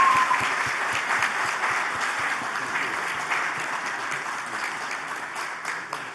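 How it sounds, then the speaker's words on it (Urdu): Audience applause at the ICON Awards ceremony 2023, a steady wash of clapping from a large seated crowd, moderately loud and continuous throughout, with no speech over it. "بہت تالیاں جی، بہت تالیاں."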